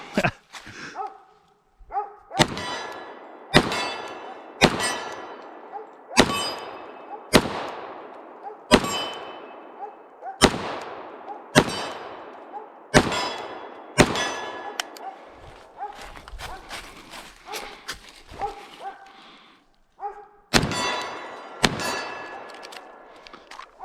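An FNX 45 Tactical pistol fires a run of about fifteen loud, sharp shots at an uneven pace, each with a ringing decay and a few short pauses between groups.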